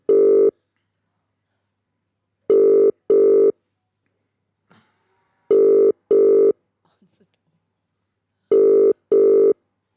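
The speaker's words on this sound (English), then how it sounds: "We are ringing people that live in Australia, right?" A telephone ringback tone sounds while calling a number in Australia, loud paired rings repeating every few seconds with silent gaps between them, and faint brief noises in the pauses.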